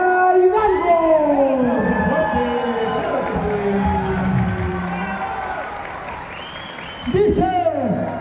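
A crowd at an indigenous languages festival dance presentation applauds and cheers loudly, with whoops and raised voices over the clapping, which dips midway and surges again near the end.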